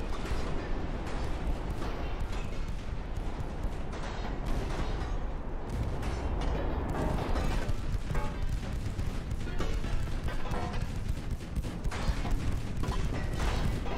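Relentless barrage of a battleship's massed 2-inch guns in Ultimate Admiral: Dreadnoughts, dense overlapping bangs and crashes forming a continuous roar with no pauses, loud and near throughout.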